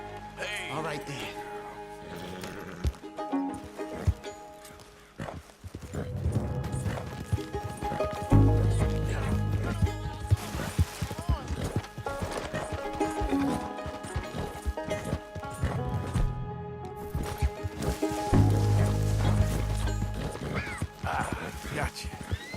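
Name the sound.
horse hooves and whinnies in Red Dead Redemption 2 video game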